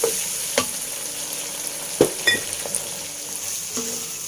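Cabbage and mustard leaf stir-fried in a hot pan for fried flat noodles give a steady, close sizzle broken by a few sharp spatula scrapes and clanks against the pan.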